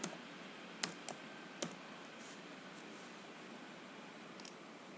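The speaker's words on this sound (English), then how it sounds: "In the new window you can start typing the program." A few soft, scattered keyboard clicks in a quiet room, with long pauses between keystrokes.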